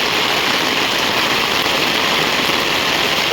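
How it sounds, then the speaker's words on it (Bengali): Heavy afternoon rain pours down steadily, a loud, dense hiss that stays constant from start to finish with no voices over it. "কড়া বৃষ্টি বিকালবেলা, এত কড়া বৃষ্টি বলার বাইরে।"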